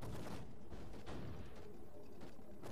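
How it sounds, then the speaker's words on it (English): A cannon tower in the toy-soldier strategy game Toy Defense 2 fires repeatedly, a few dull booms and thuds over a constant rumble of battle noise, fairly faint with no voices. "The cannon does lots of damage and he finishes them off with a double damage shot."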